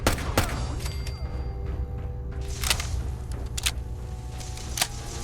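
Gunfire in Fallout 4 cracks out in scattered single shots over a steady low rumble of game ambience, several sharp reports spaced irregularly across the scene.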